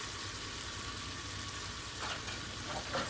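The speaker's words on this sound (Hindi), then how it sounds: "अब मैंने इसको ज़रा सा भूनना है" Masala frying in a pan for black chickpea curry: a steady, close hiss of sizzling oil running throughout, with faint stirring scrapes near the end and no voices.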